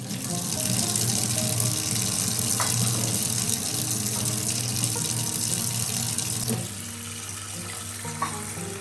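Tap water running into a sink while eggs are washed, a steady splashing gush near the microphone that drops a little lower toward the end, with no voices.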